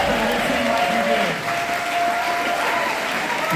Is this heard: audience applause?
yes